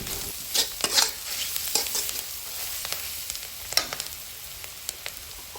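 Turmeric and chili powder frying in a pan with salt, stirred with a spoon: a constant sizzle broken by repeated scraping strokes and sharp clinks against the pan, close and without talk.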